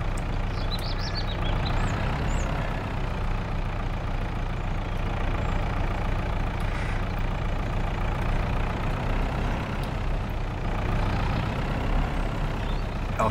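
Tractor engine driving in a farming video game set on an 1980s vintage farm, a steady droning mid-low rumble holding an even level throughout, with no talk.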